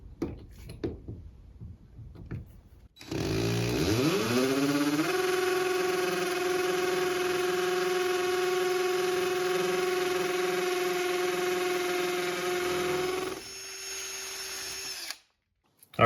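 A power drill with a Festool D 27-BSD dust nozzle spins up and runs steadily at a high whine for about ten seconds, drilling into MDF, then winds down and stops, close and loud.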